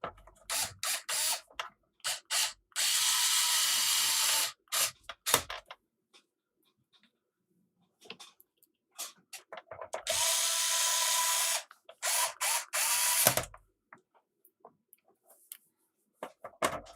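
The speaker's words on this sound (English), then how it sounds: "And then we can put the screws back in there." Power screwdriver driving screws back into a Sega SC-3000 computer case: two sustained whirring bursts of about two and three seconds, each framed by short clicks and handling taps, close and fairly loud, with quiet gaps between.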